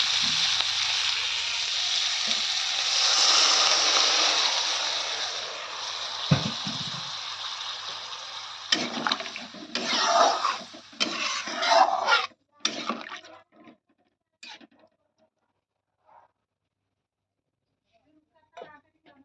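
A pot of water for fish curry comes to a rolling boil, giving a steady hissing bubble for several seconds before clattering handling noises take over and the sound dies away.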